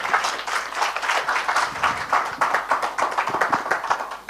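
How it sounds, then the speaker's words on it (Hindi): An audience at a Kalam Jaipur literary talk breaks into hearty applause, a dense, steady patter of many hands clapping at close range throughout. "जोरदार तालियों से।"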